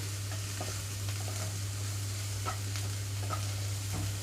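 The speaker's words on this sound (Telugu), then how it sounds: "ఇప్పుడు ఇందులోనే కట్ చేసి పెట్టుకున్న క్యాబేజీ క్యాప్సికమ్ అలాగే క్యారెట్ మొత్తం వేసేసి ఫ్రై చేస్తున్నాను" Chopped cabbage, capsicum and carrot stir-fry in a pan over high flame, giving a steady, close sizzle broken by scraping stirs, with a constant low hum underneath.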